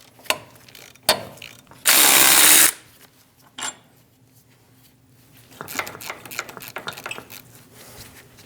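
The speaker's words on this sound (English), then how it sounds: "Using a 15mm socket, we're going to remove the 4 bolts for the wheel bearing." Power tool with a 15mm socket removing the wheel bearing bolts on a 2001-2006 Chevrolet Silverado front hub: short ratcheting bursts, one loud sustained whirr of a couple of seconds, then quieter clicking and rattling.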